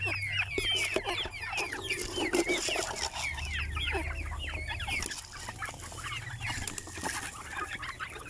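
Heritage chickens cluck and chatter busily in a farm yard, a dense flock of overlapping clucks close by, steady and continuous with no talk.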